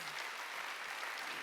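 A church congregation applauding during a Wednesday worship service, a faint, dense, even patter of many hands heard from a distance.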